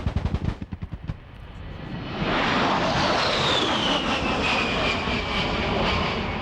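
A-10 Thunderbolt II Warthog of the 131st Fighter Squadron, a rapid burst of cannon fire opening, then a loud jet engine roar that swells and holds with a whining tone as the aircraft passes.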